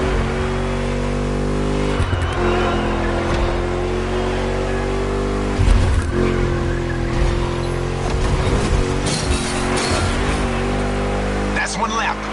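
A car in The Crew racing game drives and revs continuously, engine tone rising and falling with gear shifts and occasional tire squeal, loud and steady throughout with game-related voice layered over it.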